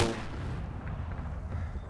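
A rocket launcher fires with a heavy, sharp blast that hits at once and rumbles away over under two seconds, loud and close, with no talk.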